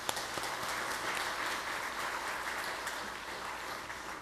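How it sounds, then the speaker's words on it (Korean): A church congregation applauds the choir with steady, dense clapping that fills the room evenly for several seconds, moderately distant and without talk. "우리 성가대를 다시 한번 우리 경의의 박수 한번 부탁드립니다."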